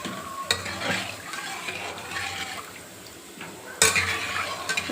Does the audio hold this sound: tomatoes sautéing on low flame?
yes